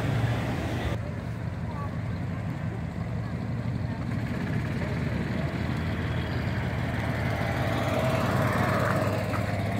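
Lincoln Mark II classic cars rolling past at an outdoor car show, a soft, steady low engine rumble at a distance with faint background crowd noise.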